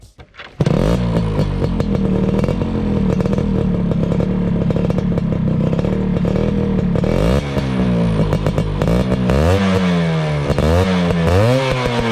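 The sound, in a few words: four-gear kickstart motorcycle engine accelerating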